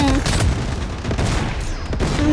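Loud, continuous gunfire with heavy booming blasts from grenade explosions in the Blood Strike video game, a dense barrage running throughout the clip with no clear voice over it.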